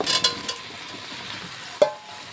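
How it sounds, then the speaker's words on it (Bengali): Boiled jackfruit and potato are stir-fried with spices and oil in a pan, giving a short burst of soft sizzling with a few spoon scrapes and one sharp clink near the end. "এঁচোড় আর আলুটিকে দিয়ে মশলার সাথে খুব ভালোভাবে কষিয়ে কিছুক্ষণ রান্না করে নেব।"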